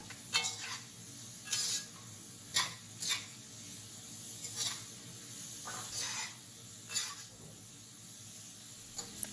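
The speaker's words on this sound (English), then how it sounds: "And stir fry for 2 minutes." Garlic asparagus stir-frying in a pan with salt and white pepper: a soft background sizzle punctuated by repeated brushy scrapes and clatters of a utensil against the pan at an irregular rhythm, close and moderately loud.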